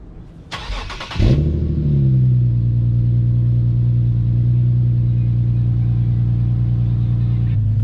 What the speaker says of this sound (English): I'm gonna go ahead and set this thing up to do a cold start